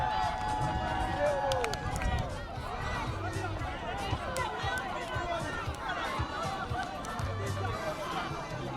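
A big crowd applauds and cheers at the final of the VIP Media Father's Day Football Tournament, a steady, dense wash of clapping and chatter running throughout.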